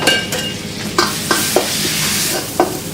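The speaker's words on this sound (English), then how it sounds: "We have like fried curry paste." Curry paste frying in a pan in a restaurant kitchen at Kiln Soho, a steady close sizzle broken by several sharp stirring scrapes and knocks, no talking.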